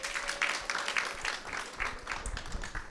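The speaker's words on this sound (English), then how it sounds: "let's give this panel a big round of applause." An audience at a panel discussion claps for the panelists, a moderate, fairly quiet patter of hands with some uneven swells, heard alone without speech.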